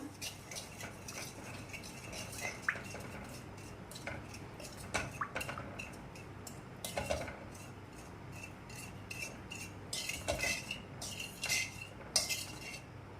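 Spiced pickle masala of oil, fenugreek powder and chili powder being mixed with a spoon in a bowl, soft rubbing scrapes punctuated by irregular light metallic clinks, close and fairly quiet.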